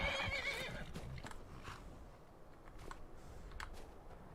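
Horse whinnying in the video game Skyrim, a clear neigh up front followed by soft hoof clops and faint clicks, close and fairly quiet with no talk.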